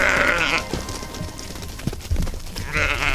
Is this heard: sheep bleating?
yes